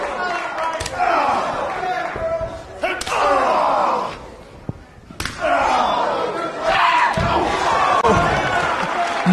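Wrestling match in the ring at an IWA Mid South show, one wrestler kicking his opponent in the back, sharp slams and smacks ringing out over a loud, steady crowd roar with a commentator talking throughout.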